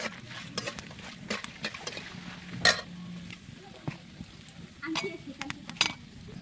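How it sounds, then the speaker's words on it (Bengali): Bay leaves, cinnamon and cardamom fry in hot oil in a pan, giving a soft steady sizzle with stirring scrapes and light clinks of a spoon against the pan, fairly quiet and close. "এখন আমি তেজপাতা দারচিনি এলাচ দিয়ে দেবো তেলের উপরে দিয়ে একটু ভেজে নেব"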